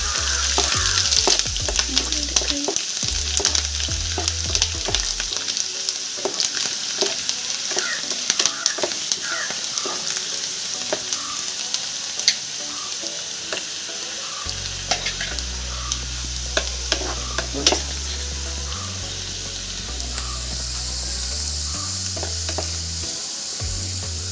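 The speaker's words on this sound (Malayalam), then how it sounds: "അതിലേക്ക് അരിഞ്ഞു വെച്ച വെളുത്തുള്ളി ഇട്ട് കൊടുക്കാം കുറച്ച് സമയം വഴറ്റി കൊടുക്കാം" Chopped garlic sautés in hot oil in a pan for mango, ginger and bird's-eye chilli pickle, sizzling loudly and up close with frequent clattering stirs and scrapes throughout, while soft background music plays.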